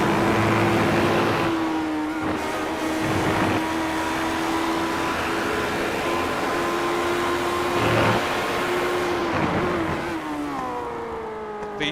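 A 3-liter naturally aspirated mid-engine V8 race car in the iRacing video game revs hard and steadily throughout, a loud sustained engine note with brief shifts in pitch, no talk over it.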